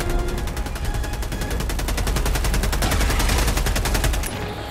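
Rapid automatic gunfire in Helldivers 2, a loud, evenly spaced stream of shots lasting about four seconds before it cuts off abruptly.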